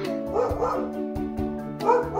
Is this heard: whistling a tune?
no